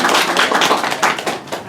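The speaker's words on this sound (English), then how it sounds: "I hate a quiet reading, so snaps and claps are good." An audience at a literary reading snaps fingers and claps, producing a quick, uneven scatter of close, sharp taps over less than two seconds with no talking.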